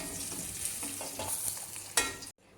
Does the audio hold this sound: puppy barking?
no